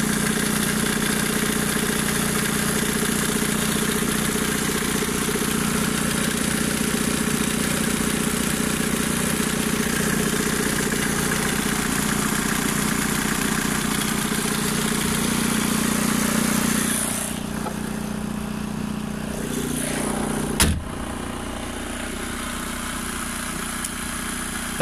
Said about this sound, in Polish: Silniczek sobie fajnie chodzi.